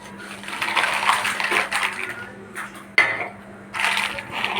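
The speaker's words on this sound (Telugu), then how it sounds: "మనకి రోట్లోనే నూరుతానండి రోట్లో నూరితేనే బాగుంటుంది మనకి" Ingredients crushed by hand in a traditional stone mortar with a little salt, giving irregular scraping and pounding strokes close to the microphone, with a brief pause near the middle before the grinding resumes.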